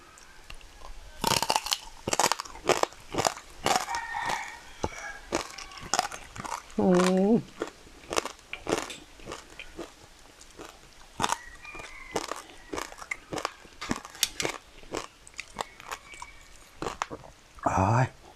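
Crispy pork crackling crunched while eating, alongside spicy cucumber salad: a steady series of close, sharp bites and crackles, with someone talking and murmuring between the mouthfuls.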